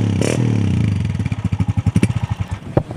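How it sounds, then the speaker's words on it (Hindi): A Chinese-made 125cc motorcycle engine runs close by with a fast, pulsing exhaust beat that quickens and firms up briefly as it revs, then drops away. "कंपैरिजन के लिए आपको सुनाते हैं ताकि आप एक तो बेहतर फैसला कर सकें, दूसरा जज कर सकें कि कितना फ़र्क है चाइना के 125 के साउंड का और होंडा के 125 के साउंड का।"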